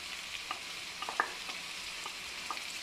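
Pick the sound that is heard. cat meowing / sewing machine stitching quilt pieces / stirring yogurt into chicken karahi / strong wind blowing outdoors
stirring yogurt into chicken karahi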